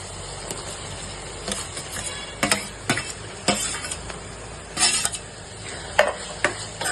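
Onions and tomatoes are stirred in a pan for a prawn and drumstick curry, with irregular scraping strokes and clinks against the metal over a steady low sizzle.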